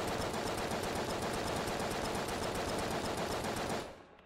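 Rapid, steady automatic gunfire in the video game Enter the Gungeon, loud and continuous for nearly four seconds before cutting off abruptly, with no talk.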